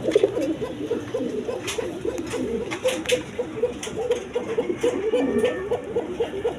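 Pigeons coo repeatedly in a loft where birds are kept for sale with eggs and chicks, steady overlapping low cooing close by with faint chatter mixed in.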